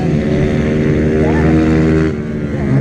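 Mini GP racing motorcycles on the front straightaway produce a loud, steady buzzing engine drone that holds its pitch, then eases off slightly near the end.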